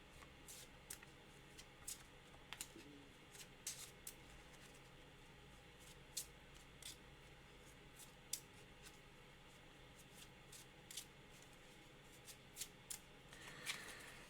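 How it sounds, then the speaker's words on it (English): Playing cards shuffled by hand for a solo tabletop adventure game, a quiet close riffle of crisp repeated flicks and ticks spread across the whole stretch, with no talk. "we're going to shuffle again and draw for our next combat round"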